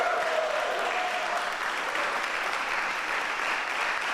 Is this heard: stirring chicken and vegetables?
no